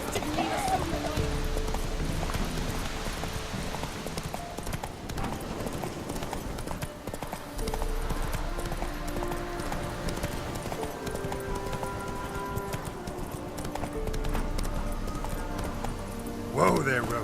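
Roach the horse gallops in The Witcher III: Wild Hunt, with steady, close hoofbeats running throughout, under spoken dialogue and background game music.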